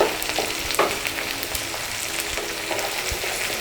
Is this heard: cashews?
yes